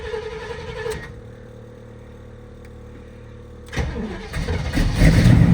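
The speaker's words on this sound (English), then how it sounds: "Okay, we're cranking." An old Chevy square-body truck engine cranks with a steady starter whir, then fires and catches, rising into a loud rough idle with some revving nearby.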